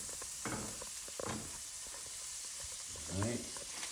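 Butter sizzling in a hot pan on the stove for a Taylor ham (pork roll), egg and cheese breakfast sandwich, a steady frying hiss with faint spatters throughout and brief background voices.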